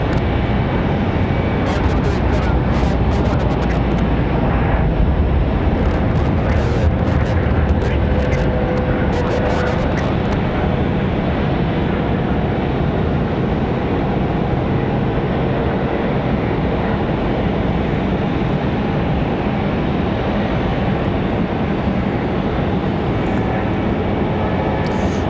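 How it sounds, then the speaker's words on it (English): An American Airlines A321 climbs out at Raleigh-Durham airport with a loud, sustained jet roar that stays strong throughout, and faint clicks are scattered over the engine noise early on. "Another American A321 headed up the hill."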